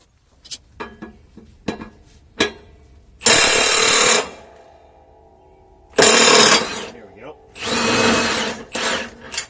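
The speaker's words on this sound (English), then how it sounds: "I'll grab my Milwaukee impact wrench here and take off these old blades." A Milwaukee impact wrench removes the blades from a Toro Z-Master 3000 Series mower with a 72-inch deck, firing in three loud, hammering bursts of a second or more each, separated by quieter clinks and handling noises.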